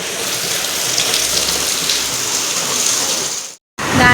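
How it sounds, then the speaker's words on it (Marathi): Heavy monsoon rain pours down steadily during flooding in Vasai, a dense, loud hiss of water on surfaces that cuts out abruptly for a moment before resuming. "आणि पाऊस पण नाही थांबत आहे अजिबात."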